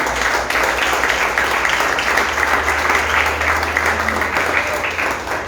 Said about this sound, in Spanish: Dan un aplauso fuerte al Señor